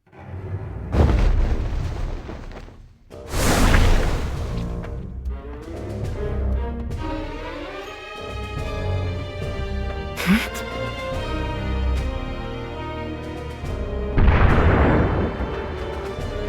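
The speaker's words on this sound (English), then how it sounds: "Those are the sounds of Rundal cannons." Rundal cannons boom repeatedly in a battle on a lake in the game Final Fantasy War of Visions, heavy blasts recurring over dense dramatic music and battle noise.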